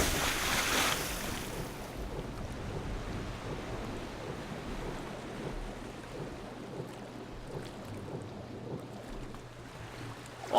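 Rushing river water in the Legend of Grimrock 2 video game, a steady broadband wash with a low hum beneath, louder at the start and then settling into an even flow.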